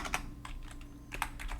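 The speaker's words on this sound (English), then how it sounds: "click on this keyboard and press a button. I pressed E." Keys clatter on a computer keyboard in a short burst of light taps, several quick presses close to the microphone over a quiet background with a faint low hum.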